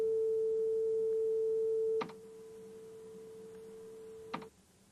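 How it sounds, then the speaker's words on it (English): A pure 440 hertz sine tone holds steady, then drops to a quieter level after a brief click, continuing softly until another click cuts it off; clean and alone. "below it I have a sine wave at the same pitch"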